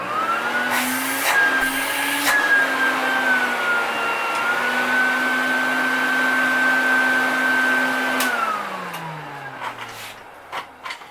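An Electrolux AP280 vacuum cleaner, restored after a full cleaning, runs with a steady loud motor whine that holds its pitch, then winds down near the end as it is switched off.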